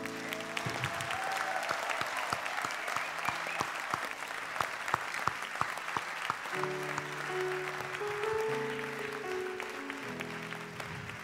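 A church congregation at a French revival weekend applauds Jesus with steady, enthusiastic clapping from a fairly large crowd in a hall, continuous throughout, with a few soft voices and organ-like tones underneath.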